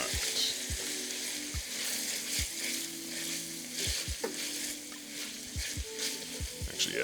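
Discada sautéing and searing in a pan, a continuous loud sizzle and crackle punctuated by regular sharp knocks of utensils against the metal, close up with no talk.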